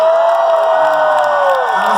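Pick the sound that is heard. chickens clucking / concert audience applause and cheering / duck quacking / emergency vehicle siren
concert audience applause and cheering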